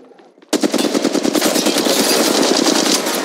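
Automatic weapon fire in the mobile shooter game Apex Legends Mobile, a loud, rapid continuous burst of shots starting abruptly after a brief quiet moment.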